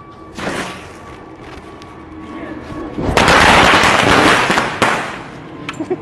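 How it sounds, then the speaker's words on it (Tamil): Diwali firecrackers bursting outdoors during a festival celebration, a sharp pop followed later by a dense, loud crackling barrage lasting a couple of seconds, with scattered smaller snaps after it. "பட்டாசு வச்சா"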